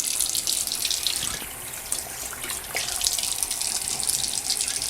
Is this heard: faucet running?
yes